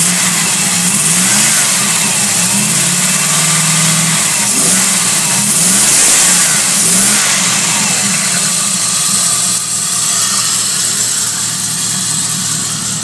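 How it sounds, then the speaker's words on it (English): 1986 Chevrolet Camaro Z28 IROC V8 with new extractors, revved repeatedly from idle, loud close engine rising and falling in several sweeps before settling back to a rumbling idle. "I'll just give it a bit of a rev so you can hear it."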